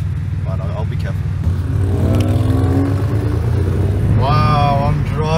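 A Mazda RX-7 FD driving a mountain road in Hakone, Japan, with a steady, loud interior engine drone and rising revs as it accelerates through the gears, a voice speaking over it.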